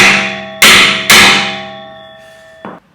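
Hammer striking a pin punch against a stud during a Ford Mondeo Mk5 engine replacement: two sharp, loud metallic clanks with ringing decay, then a lighter tap near the end, with no talk.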